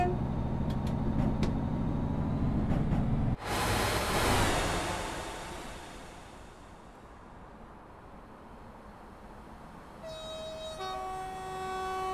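Train in the Train Sim World 4 video game, a steady rumbling run with brief tonal blips, a sudden louder hiss of passing rail noise, then a sustained horn-like tone late on.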